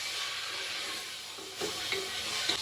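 Tomatoes frying in a pan, with a steady broadband sizzle and a few soft stirring knocks toward the end, close by with no talking.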